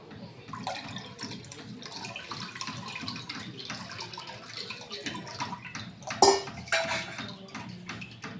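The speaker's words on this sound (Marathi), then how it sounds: "आता मी हे चिंचेचं पाणी यामध्ये गाळून घेणार आहे।" Tamarind water being poured through a strainer into a pot, a soft trickle with light clinks of metal utensils and one sharper clatter near the end, close and fairly quiet, no speech.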